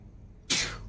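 A single short, sudden sneeze bursts out halfway through a quiet moment. It sounds fairly near and breathy, then trails off quickly.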